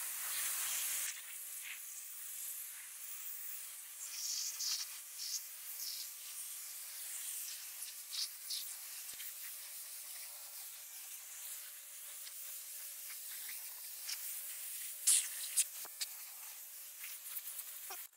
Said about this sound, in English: pressure washer is on, and it's working